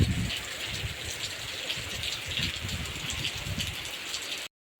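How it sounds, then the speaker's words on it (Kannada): Steady rain falls outside a home, a continuous close hiss of drops on surfaces with slight rattling, holding steady for a few seconds before cutting off abruptly. "ಸದ್ಯ ಮಳೆ ಬರ್ತಿದೆ"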